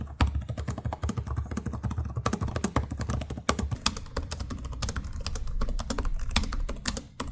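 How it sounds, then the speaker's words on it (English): Keys clatter steadily as someone types on the keyboards of Lenovo Legion 7 and Asus ROG Zephyrus G16 gaming laptops, a quick, even run of soft thumpy clicks at close range, with no voices. "they're both really nice to type on, but the Legion is a bit more thumpy and in my opinion it has nicer feeling keys"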